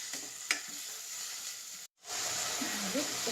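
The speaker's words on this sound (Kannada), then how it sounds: "ಈಗ ನಾನು ಆಲೂಗೆಡ್ಡೆನ ಸೇರಿಸ್ತಾ ಇದ್ದೀನಿ. ಇದು ಚೆನ್ನಾಗಿ ಸ್ವಲ್ಪ ಎಣ್ಣೆಲೇ ಚೆನ್ನಾಗಿ ಫ್ರೈ ಆಗಲಿ." Potatoes fry in hot oil, giving a steady loud sizzle with a brief clatter of stirring and a short break, while someone speaks quietly underneath.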